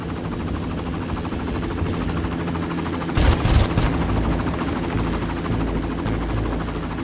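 Helicopter rotor drone with bursts of automatic gunfire in the Far Cry video game, a steady mechanical hum throughout and a brief loud cluster of shots in the middle.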